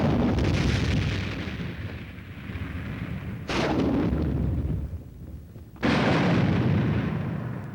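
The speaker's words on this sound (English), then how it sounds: "Like the Mad Minute at Fort Benning, Georgia, where a representative group of combined weapons of a reinforced infantry company" Massed firepower from a reinforced infantry company's combined weapons firing simultaneously in a Mad Minute demonstration at Fort Benning, Georgia: a continuous roaring barrage punctuated by heavier booming surges.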